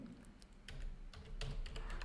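A computer keyboard is tapped to type out a file name, giving quiet, quick irregular key clicks, close up, over faint room noise.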